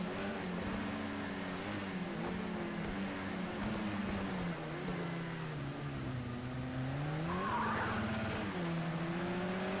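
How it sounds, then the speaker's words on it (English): A touring race car at Rouen Les Essarts spins its wheels exiting a hairpin in first gear, engine droning and wavering in pitch as the tires squeal, loud and close throughout. "that wheel spin not helping Jack actually out of the hairpin"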